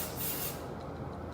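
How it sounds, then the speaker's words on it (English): A short, loud burst of hairspray hisses onto hair at close range, then cuts off into faint background noise. "you just want to always give it a really good spray with some hairspray or some hair gel if you prefer"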